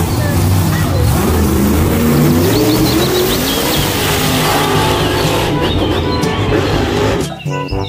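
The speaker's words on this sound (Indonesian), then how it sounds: "Yang ini ada mobil truk monster." A loud, continuous engine roar with revving swells and high whine from a toy monster truck, running steadily and cutting off abruptly near the end.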